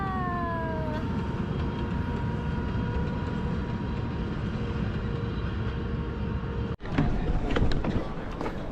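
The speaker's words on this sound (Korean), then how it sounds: "마침 기차가 지나갑니다" A train passes nearby in Chamonix, a steady loud rumble filling the scene, with a brief descending horn-like tone early on and a sudden sharp drop and clatter near the end.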